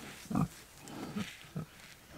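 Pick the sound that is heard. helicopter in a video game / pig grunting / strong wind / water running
pig grunting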